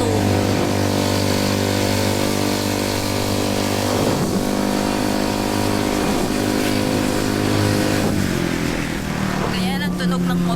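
A motorcycle engine while riding home: a loud, steady drone with a harmonic hum throughout, pitch shifting around gear changes, and people talking over it.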